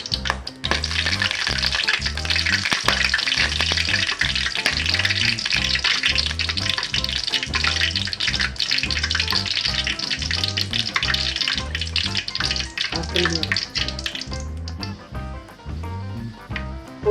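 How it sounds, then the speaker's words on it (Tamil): Fenugreek seeds fry in hot oil for a Tamil tindora (kovakkai) kuzhambu, giving a loud, steady sizzle with fine crackling heard up close and lasting throughout, easing slightly near the end. "வெந்தயம் நல்லா பொரிட்டு"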